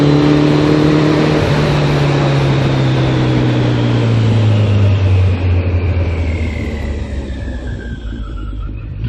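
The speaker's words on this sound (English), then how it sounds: "Keep it in third gear and she trundles on." Suzuki GSX1400 motorcycle engine pulling steadily in third gear through slow twisty roads, a loud continuous drone with wind rush whose pitch slowly sinks as the bike trundles along, no talking.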